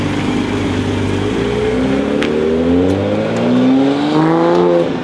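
A white Toyota Supra MKV drives away at steady loudness, its engine note climbing through rising harmonics as it pulls off, with no talking over it.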